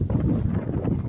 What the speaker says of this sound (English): This is windy. I don't know if it's picked up on the phone.